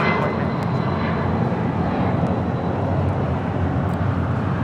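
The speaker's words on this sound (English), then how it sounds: "This is Delta 631 taking off to Mexico City on a 757-200." A Delta Boeing 757-200 jet takes off from LAX, its engines a loud, steady, broadband roar that fills the scene without a break.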